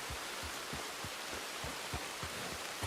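Steady, faint rain hisses in Red Dead Redemption 2, with soft low thumps recurring at a regular pace beneath the wash.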